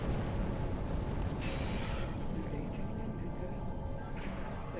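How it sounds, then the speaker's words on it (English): An explosion in the space game Star Trek Online gives a steady, broad roar that rumbles on at low level for several seconds without a sharp peak. "Did that shit explode?"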